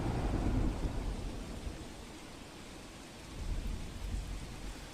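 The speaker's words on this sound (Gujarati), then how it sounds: "માંડવીમાં વહેલી સવારે વરસાદી માહોલ છવાયો અલગ અલગ વિસ્તારોમાં વરસાદ વરસી રહ્યો છે" Steady early-morning rain falls in a dense hiss over Mandvi, Kutch, with low rumbling swells rising and easing; no voices.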